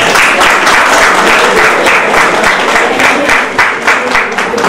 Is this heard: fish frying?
no